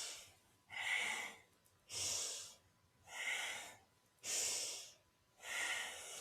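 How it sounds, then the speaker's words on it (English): Slow, steady breathing during kundalini yoga spinal flexes, six close, soft breaths alternating inhale and exhale in an even rhythm, with no talking. "we're inhaling the chest forward and around, exhaling back and around"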